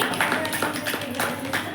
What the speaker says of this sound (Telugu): క్లాప్ చేయండి శశికళకి